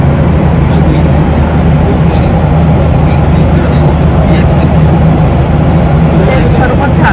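Loud, constant low roar and rumble inside an airplane cabin in flight, a steady engine and airflow drone filling the space with no pauses.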